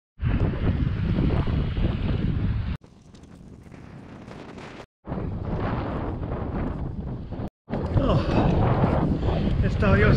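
Wind noise while cycling on a route around Berlin, a loud roaring buffet across the microphone in several bursts broken by short cuts, with one calmer stretch in between.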